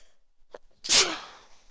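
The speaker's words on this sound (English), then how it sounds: "I gotta sneeze." A single sneeze sounds close and clear, preceded by a brief intake of breath, against a quiet background.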